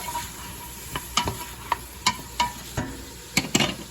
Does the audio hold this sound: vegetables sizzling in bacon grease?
yes